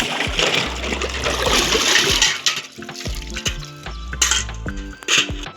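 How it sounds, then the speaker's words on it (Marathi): Cooking pots washed with water, splashing and trickling alongside clattering metal and knocking of the vessels, close and busy with uneven bursts of activity. "स्वयंपाकाला लागतात ती भांडी सगळी आपण धुवून घ्यायची"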